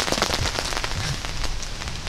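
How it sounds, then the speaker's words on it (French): Light rain patters steadily on a canvas tent, a dense, close hiss of fine drops with scattered sharper taps and no voices. "Et la petite pluie qui s'amuse."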